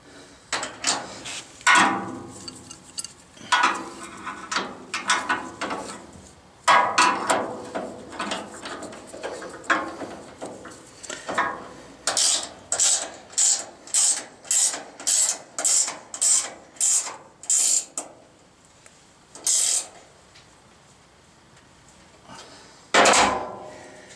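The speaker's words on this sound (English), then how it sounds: "This is actually the crescent wrench they sent." A crescent wrench turns a bolt while mounting a Novakon Torus Pro machine, giving a rapid series of sharp metallic ratcheting clicks and knocks, close and clear, with scattered handling clatter before and after.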